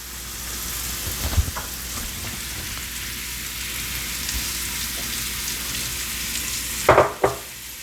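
Chopped onions hit hot olive oil in a pan, giving a steady close sizzle that runs the whole time and ends in a couple of sharp clatters as the pan is handled.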